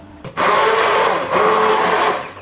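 A blender purees tomato sauce for canning with a loud, steady whir that holds throughout, briefly dipping once in the middle before surging back.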